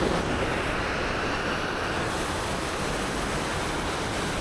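A strong river current rushing steadily, a broad continuous wash of water noise that sits fairly close and unvarying, with some wind buffeting the microphone and no voices.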